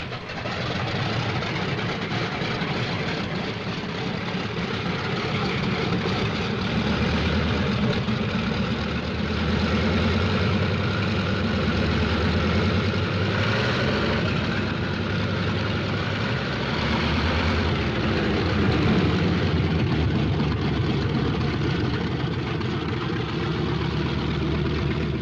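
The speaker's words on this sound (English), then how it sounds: "On the field, planes warm up. It's takeoff time for the Thunderbolts." Radial engines of World War II P-47 Thunderbolt fighters warming up on an airfield, a continuous deep rumbling drone with shifting low throb, steady and loud throughout with no talk.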